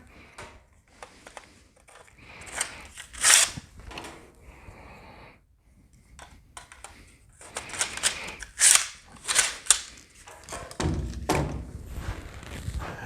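A nail gun fires into V-match ceiling boards, giving several sharp loud pops and thuds in two bursts separated by a quieter stretch, with handling clatter and movement noise between shots.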